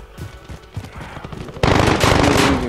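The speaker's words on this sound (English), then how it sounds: "I'm pretty sure they're shooting at me." Gunfire in Call of Duty: Warzone, with scattered sharp shots that break into a loud, dense burst of rapid automatic fire lasting the final second or so, close and without talk.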